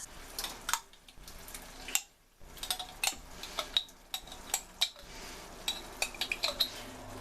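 A spoon clinks and taps repeatedly against a pan and jar while pesto sauce goes into a salmon pan, the sharp metallic knocks irregular and fairly quiet, with a short pause partway through.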